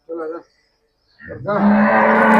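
A black dairy cow on a Punjab farm gives a loud, close, drawn-out moo that swells and holds steady, preceded by a brief shorter call and a pause of near silence.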